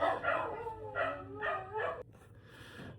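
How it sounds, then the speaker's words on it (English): Several dogs bark at home in a quick run of four or five yapping barks, fairly close and a little muffled, then fade to quiet room noise. "my dogs are barking and interrupt me"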